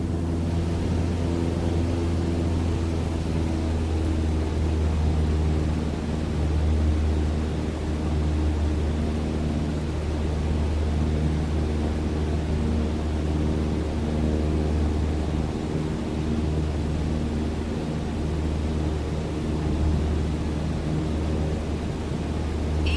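A light aircraft engine in Microsoft Flight Simulator 2020, throttled back to 2300 RPM, drones as a steady, loud, even hum with broad rushing noise, holding constant with no voices over it.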